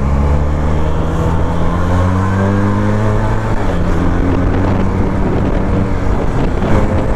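A motorcycle engine droning steadily at cruising speed on a straight road, with strong wind buffeting the microphone throughout.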